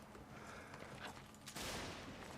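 Cannon fire during a Mount & Blade North & South mod line battle, a dense rumble of distant gunfire and battle noise that breaks into a loud, sustained booming blast near the end.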